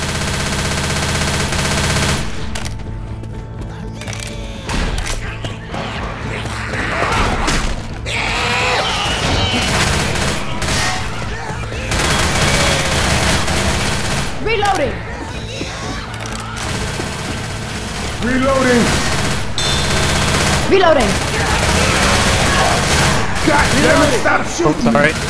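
Rapid automatic gunfire from the Left 4 Dead 2 video game on The Parish expert campaign, long sustained bursts broken by brief pauses and mechanical clatter, loud and continuous throughout.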